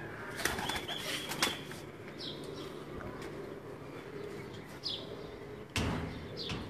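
Racing pigeons take off from a rooftop during a district pigeon-flying tournament, with brief bursts of wing flapping and clatter over steady outdoor background noise.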